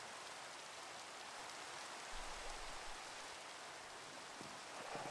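Steady rain in a Minecraft Skyfactory 3 modpack world, a dense, even hiss of falling drops that carries on unbroken with no voices.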